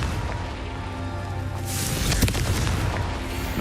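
Confringo fire spell exploding in Hogwarts Legacy, a deep rumbling blast that swells midway over steady game background noise, with no talking.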